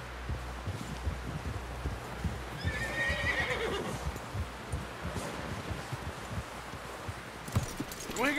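Horse in Red Dead Redemption 2 whinnies loudly mid-clip, with clip-clopping hooves and rustling underneath and a steady outdoor wind bed throughout.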